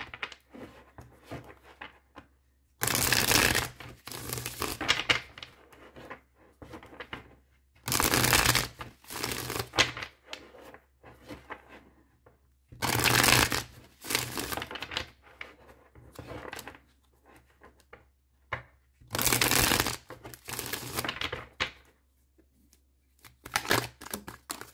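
An oracle card deck is shuffled repeatedly in distinct bursts of riffling and flapping, each lasting a couple of seconds, separated by quieter pauses with soft handling noises, close and alone.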